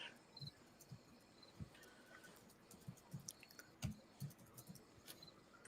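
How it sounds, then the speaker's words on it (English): A single cricket chirps in short, sharp bursts at irregular intervals, fairly close and alone against a quiet background. "I just heard a loud cricket"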